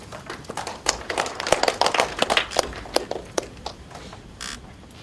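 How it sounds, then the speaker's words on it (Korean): Scattered, uneven clapping from an audience at a school science and green-growth education presentation, welcoming a high school teacher to the stage; sparse individual claps rise briefly, then thin out and fade. "박수로 모시겠습니다"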